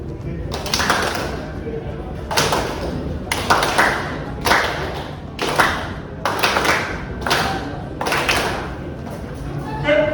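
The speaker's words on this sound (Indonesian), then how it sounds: "Kalau ibu angkat tangan kanan ibu, berarti kalian tepuk satu kali." Classroom students clapping together in response to a teacher's raised-hand signals, sharp group bursts of claps repeating irregularly about eight times, each burst brief and crisp against a quiet room murmur.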